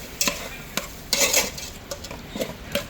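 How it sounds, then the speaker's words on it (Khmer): A Khmer stew being stirred in a pot with a utensil, giving several short scraping strokes and clinks close by, no talking. "ហើយគាត់កូរ"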